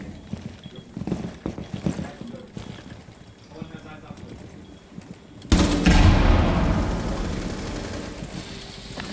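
Gunfire sounds in a Rainbow Six Siege collegiate esports match: scattered sharp shots early on, then a sudden loud burst about midway that stays heavy and noisy. People talk throughout.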